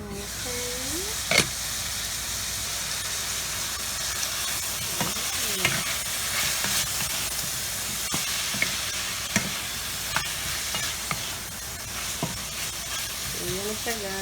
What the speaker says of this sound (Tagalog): hayaan natin mag-brown ng konti yung yung pork ribs